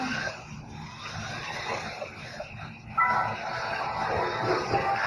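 An RC car with a 90s JDM-style body racing around a track, a continuous buzzing motor with shifting pitch and tyre scuffs, getting louder near the end.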